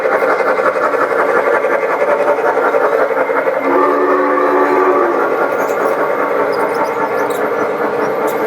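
A model train runs on a large indoor layout, giving a steady, continuous rolling rumble with metallic wheel squeal and a brief squealing whistle-like tone partway through.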